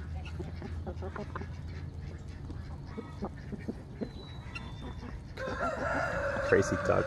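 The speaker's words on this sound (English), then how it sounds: "crazy ducks." Barnyard ducks quacking and honking in a noisy, continuous chorus close by, with someone talking over them and the calls growing louder and denser toward the end.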